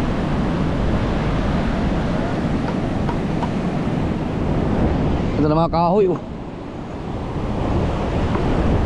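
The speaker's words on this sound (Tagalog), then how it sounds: "Lakas pa ng hangin." Strong wind buffets the microphone and waves wash steadily on a shore after Super Typhoon Uwan, a continuous roar with someone briefly speaking over it.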